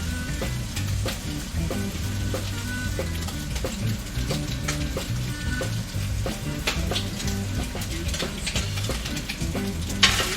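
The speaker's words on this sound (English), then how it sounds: "we're going to let this stir fry for a little bit" Pork for Cajun jambalaya sizzles and crackles steadily in a hot pot, with repeated scraping and stirring knocks from a utensil throughout and no talking.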